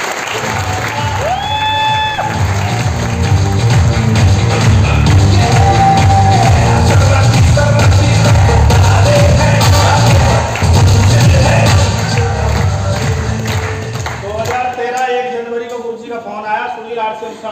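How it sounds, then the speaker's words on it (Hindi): Loud, sustained applause fills a training seminar hall, steady clapping from a large audience for about fourteen seconds before dropping off, with a few shouts and voices mixed in. "जोरदार तालियां।"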